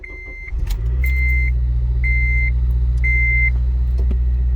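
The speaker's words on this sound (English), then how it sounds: "my car idles rough" A 2007 Honda Civic Si cold-starting, its engine catching and settling into a steady, slightly uneven idle, with a regular warning chime beeping four times above the engine hum.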